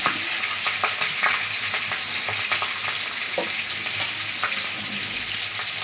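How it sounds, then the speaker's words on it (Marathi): Curry leaves and tomato frying in hot oil, a loud, continuous sizzle with occasional stirring clicks and scrapes, close up and with no speech. "त्याला छानसं भाजून घेऊया."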